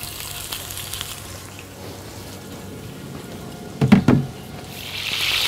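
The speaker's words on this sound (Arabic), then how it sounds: "والطاسة سخنة، وهبتدي أحمر البريسكت، وممكن أحط معها شوية من الزيت." Brisket searing in oil in a hot pan gives a steady, close sizzle, with a short burst of louder crackle and clatter midway.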